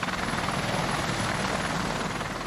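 An AH-1Z attack helicopter flies close by with a loud, steady roar of rotor and turbine noise, continuous and dense throughout with no talk.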